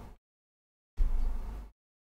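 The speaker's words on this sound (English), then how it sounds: "that's me tapping two sets of scissors together." Two pairs of metal scissors tapped together, a short burst near the start, then nearly a second of sharp, close clattering after a gap of silence.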